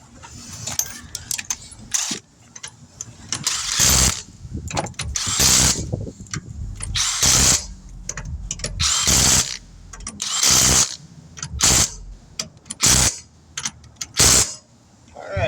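A power tool tightens the wheel nuts on a 2001 Honda Odyssey during a tire repair, firing in repeated short, loud bursts with brief pauses and rattling between them.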